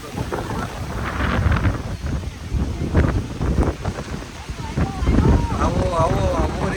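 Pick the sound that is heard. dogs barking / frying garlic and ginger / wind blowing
wind blowing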